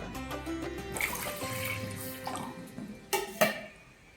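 Water splashing and gurgling in short bursts as two cups are poured into a pot for modak dough, close by, with a couple of sharper clinks near the end.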